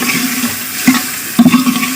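Water pours into a pot of rice being cooked with garam masala, a steady close splashing gush with brief bubbling bursts, loud and continuous without talk.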